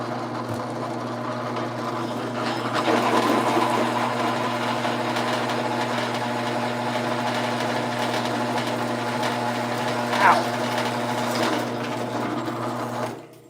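A drill with a sharp bit running during clean-up, a steady, even motor hum held for about thirteen seconds, with a brief louder spike near the end before it stops.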